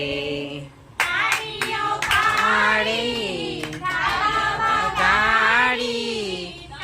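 Hands clap during a devotional bhajan, with sharp irregular claps mixed under loud, sustained singing voices that dominate throughout.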